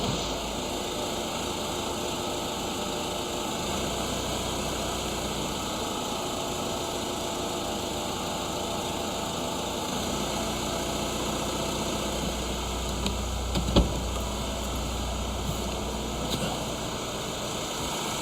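A 1.6 CDTi diesel engine in a Vauxhall Astra J, freshly fitted with a new timing chain, idles in a steady, even drone with no clatter, running alone at close range with one small knock near the end.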